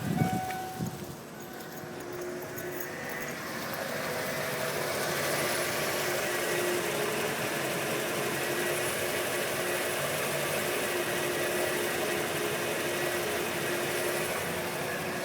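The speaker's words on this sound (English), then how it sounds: "So far, it's idling okay" A Ford E150 van's 351 V8 with a stutter and stall fault idles steadily up close, a continuous even rumble and hum that settles after a brief uneven start.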